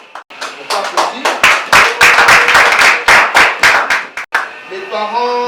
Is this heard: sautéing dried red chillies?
no